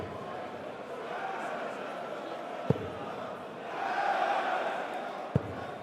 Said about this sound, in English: Crowd celebrate.